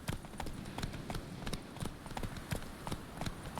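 A horse cantering in the video game Witcher 3, a close, rhythmic clip-clop of hooves in quick, even beats repeating steadily over a soft background bed.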